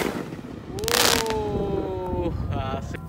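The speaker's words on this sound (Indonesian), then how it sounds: "malam takbiran guys pesta kembang api" Roman candle fireworks crackle and burst during a Takbiran night celebration, with a loud broadband blast followed by whistling tones that fade, repeating briefly near the end amid crowd noise.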